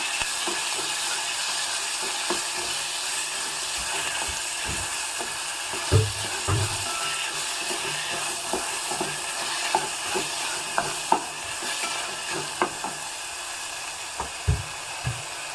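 Chopped tomato and onion with green chilli sautéing in a pan for a capsicum dish, a steady soft sizzle with frequent spoon-stirring knocks and scrapes throughout.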